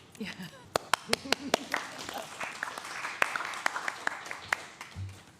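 Scattered claps ring out from a small council meeting audience honoring a volunteer, sharp and uneven at first, then thinning into a few loose hand claps while voices murmur underneath.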